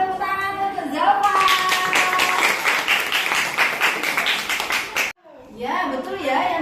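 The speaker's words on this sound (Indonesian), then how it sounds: "kasih tepuk tangan untuk Zalfa." Classroom applause as students clap together for a classmate, a dense burst of handclaps lasting about four seconds, with a voice and a teacher speaking before and after.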